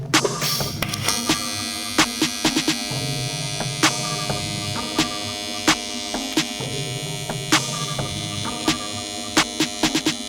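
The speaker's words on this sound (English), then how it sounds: "I just welded right-handed standing up" A pedal-controlled TIG welder arcs steadily on a cracked Honda K20 engine block, giving a continuous electric buzz with faint harmonic hum and scattered sharp crackling ticks throughout.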